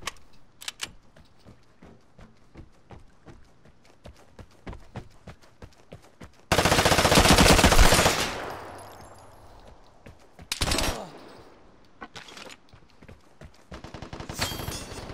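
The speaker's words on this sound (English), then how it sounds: "Are you shooting at me?" Gunfire in a shooting video game: rapid crackling volleys of shots, a loud sustained burst partway through, then further scattered shots and bursts, with no one talking.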